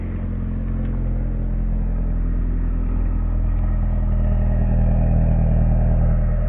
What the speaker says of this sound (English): a nice little cold start sound for you